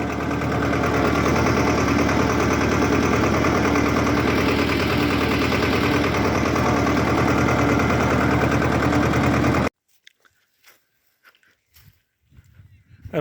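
A farm tractor engine, running out to fetch a tank of water for spraying a tur crop, rumbles loudly and steadily up close, then cuts off abruptly, leaving near silence with a few faint noises.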